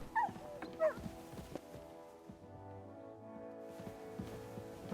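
A dog whimpers and yips in the medieval video game Kingdom Come: Deliverance 2, with a couple of brief high whines over a low, steady bed of game ambience.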